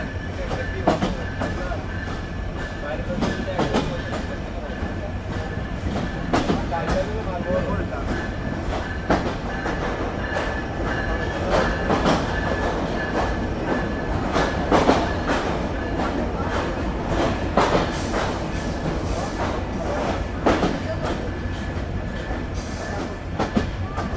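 The Kapotaksha Express pulls into Noapara railway station in Jashore, with a loud rhythmic clickety-clack of wheels over rail joints, occasional sharp clanks and squeals, and a voice speaking over the running train.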